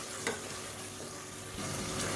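Fennel seeds and chopped tomatoes fry in hot oil in a pan, a soft, steady sizzle with a couple of faint stirring scrapes, quiet and close, with no talk.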